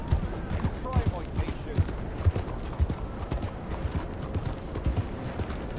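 Horse hooves from Red Dead Redemption 2, a close, rhythmic clip-clop of steady hoofbeats at a trot, with a voice speaking over them.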